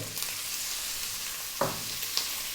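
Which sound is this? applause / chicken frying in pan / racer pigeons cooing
chicken frying in pan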